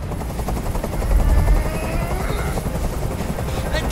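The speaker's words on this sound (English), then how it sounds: "Tell that helicopter to get out of here!" Helicopter hovering overhead in the video game Detroit: Become Human, a loud continuous rotor thudding and engine whine that swells briefly, with no speech.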